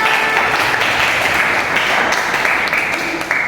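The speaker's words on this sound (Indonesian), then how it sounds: "Beri tepuk tangan untuk Galang." Applause from a school classroom during a teaching practice lesson, a steady wash of student clapping lasting several seconds with faint voices mixed in.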